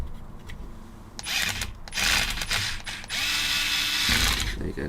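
Small screws driven into an electronics board with a powered screwdriver, several short whirring bursts with ratcheting clicks between quieter pauses, close up with no talking.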